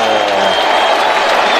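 A packed football stadium crowd at Pacaembu roars and applauds after a Santos bicycle-kick goal: a loud, dense, continuous wash of clapping and cheering that fills the whole moment.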